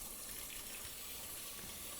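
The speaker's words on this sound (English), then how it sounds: "So now when I have like a normal size saucepan, the water has to go like 3 feet and it like splashes out." Water from a kitchen pot filler faucet runs steadily into a saucepan, a constant broadband splashing rush, faint and alone without talk.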